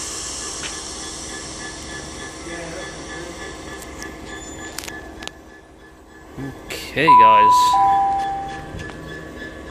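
A train moving through Westbury station on the Great Western Main Line, with a low rumble and hiss building, then a loud wheel squeal and a rising clatter as it passes close by, while a person speaks briefly.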